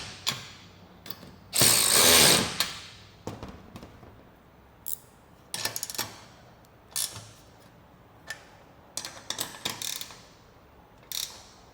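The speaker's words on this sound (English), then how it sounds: "Now we're going to go tighten down these top bolts" Ratchet tightening the top bolts of a side ladder on a Mercedes Sprinter van, heard as short bursts of close metallic clicking spread across the span, with one longer, louder burst early on and quiet pauses between.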